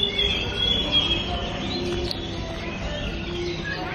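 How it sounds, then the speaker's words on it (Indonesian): Birds chirp and call loudly close by, with a steady stream of tweets and short trills over outdoor background noise, continuous throughout with no talking. "di sebelah kita ini ada burung dan suaranya tuh kuat banget"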